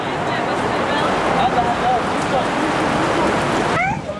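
Rain pours outdoors in Denmark as a dense, steady hiss of drops striking surfaces, loud and close throughout, with a few brief squeaky sounds near the end.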